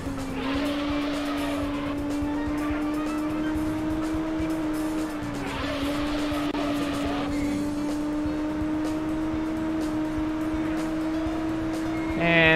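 Racing car engine in the video game Auto Modellista, holding a steady high drone with small pitch dips as it shifts and corners, loud and continuous, with brief tire-squeal-like scrapes.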